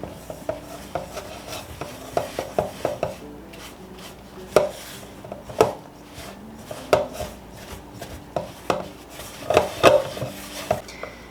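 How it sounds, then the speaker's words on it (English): Sourdough biscuit dough being stirred together in a bowl, with irregular scraping and knocking of the utensil against the bowl, louder thumps every second or so, close up with no talking. "And we're going to stir this all together."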